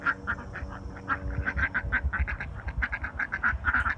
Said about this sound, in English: Ducks just hanging out here.